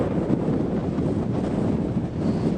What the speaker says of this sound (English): So the wind's up over 40 miles an hour now